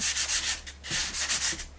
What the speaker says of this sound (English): So I'm going to take my sanding disc, just knock them down.